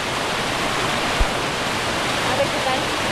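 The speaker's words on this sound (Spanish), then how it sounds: "La cascada de Ecuador, una de las más grandes." A large waterfall in Ecuador roars with steady broadband rushing water, a constant close wash of falling spray with no clear pauses, and a brief low thump partway through.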